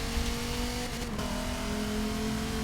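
A race car engine revs hard under throttle on the Watkins Glen circuit in a racing game, a close, continuous drone whose pitch steps up partway through, with no talk over it.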